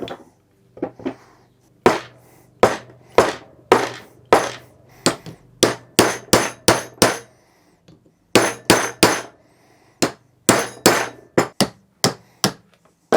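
A part is tapped into a Graco 390 airless paint sprayer pump during repacking, with about twenty sharp, close hammer taps coming in irregular bursts and brief pauses.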